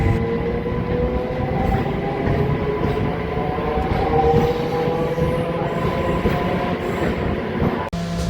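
A MEMU local train pulls out of Nalgonda railway station, its loud steady rumble and rolling wheel noise heard from inside the carriage, with a faint faraway horn and a sharp clunk near the end.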